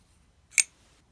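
A single crisp metallic snap as a small 2019 Kizer Mini Sheepdog folding knife clicks shut, short and bright, against near silence.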